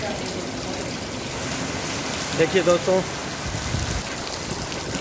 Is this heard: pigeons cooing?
no